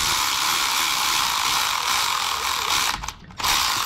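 A ratchet wrench tightens valve spring parts on an LS engine, giving a steady dense clicking that runs throughout and briefly stops near the end.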